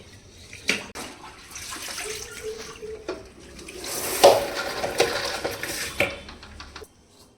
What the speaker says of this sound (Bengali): ফিনাইল দিয়ে দিলাম এবার মুছবো